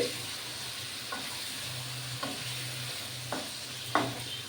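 Pointed gourd sautés in a pan with a little water, making a soft, low sizzle. A few light, evenly spaced clicks of a stirring spoon sound against the pan.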